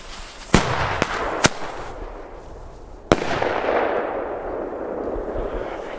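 Fireworks and firecrackers set off outdoors in Czechia: several sharp, loud bangs, the last one followed by a long, dense crackling and hissing burst that slowly fades.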